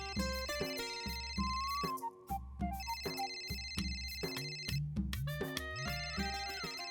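A telephone rings at home with a melodic electronic ringtone: repeated bright tone patterns over a steady rhythmic beat, loud and continuous, with no voices.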